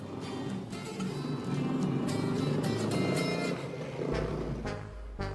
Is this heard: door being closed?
no